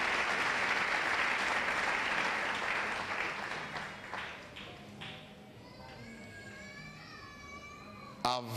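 A church congregation breaks into sustained applause, loud and dense at first, then thinning into scattered claps and fading beneath a voice near the end.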